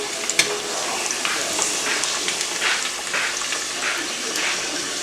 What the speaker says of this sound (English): the dough cooks itself and bubbles up when it's starting to cook